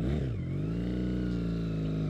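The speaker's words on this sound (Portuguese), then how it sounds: "Esse é o verdadeiro ronco de CB" A Honda CB 400 Scrambler motorcycle engine rumbles close by with a steady, throaty roar that briefly swells at the start, with no talking over it.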